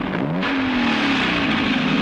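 Motor vehicle pulling away, its engine rising in pitch as it accelerates and then holding a steady, loud drone close by.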